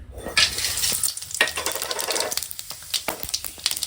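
Whole spices, bay leaf, cinnamon, clove and fennel seed, dropped into hot oil in a pan, crackling and sizzling close up with bursts of stirring scrapes.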